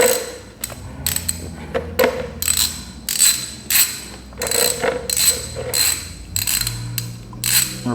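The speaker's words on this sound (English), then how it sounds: "I'm going to go around it and take all the bolts out so we can get a better look" A ratchet turns bolts out of a drained housing with loud, close bursts of rapid clicking, roughly one each half second to second, and brief pauses between them.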